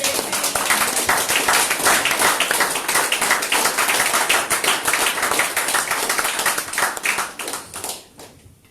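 A congregation at a church service claps together in a dense, lively burst of applause. It holds steady for several seconds, then thins out and fades near the end.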